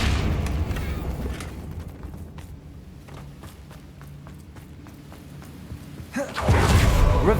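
A fiery Confringo spell explosion in Hogwarts Legacy: a quiet stretch of soft footsteps and small thuds, then a sudden loud, broad blast that roars near the end.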